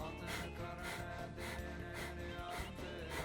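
Rhythmic, forceful breaths during a Nabhi Kriya Kundalini yoga exercise, a steady series of sharp inhales and exhales heard close over continuous background music.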